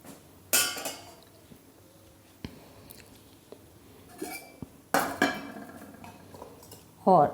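A wok (kadhai) set on a gas stove in a home kitchen, with several sharp metallic clanks and clinks of pots and utensils spaced irregularly over quiet background, close and crisp.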